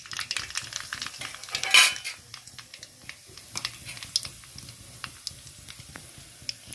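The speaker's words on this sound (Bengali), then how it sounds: "তেলটা গরম হয়ে গেছে, এবার আমি গোটা যে সর্ষেটা ওটা দিয়ে দেব" Whole mustard seeds hit hot oil in a wok: a sharp burst of sizzle, then scattered crackling pops and light clinks continuing quietly, with no talking.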